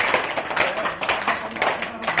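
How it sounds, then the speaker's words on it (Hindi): An audience at a motivational gathering claps hard and fast together. The sound is a loud, dense wall of clapping with faint voices mixed in. "ताली बजाना है और जोर से बजाना है"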